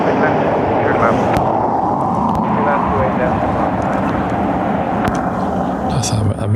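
A Qatar Airways Boeing 777 with a blown tyre lands at Dublin Airport, heard as a loud sustained roar of jet engines and rushing air throughout, with a faint voice partly mixed in.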